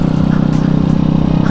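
A small motorcycle on a test ride, its engine putting out a steady, close, rattly drone with a rapid even pulse and some scraping clatter, loud and continuous.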